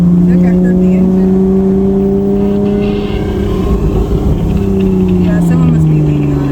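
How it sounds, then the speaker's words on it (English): A Lotus car engine drones loudly and steadily nearby, pitch rising and falling slightly as it revs, filling the whole stretch without pause. "Look, I heard the engine."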